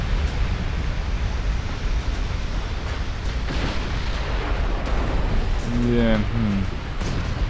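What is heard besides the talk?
battleship gunfire in Ultimate Admiral Dreadnoughts video game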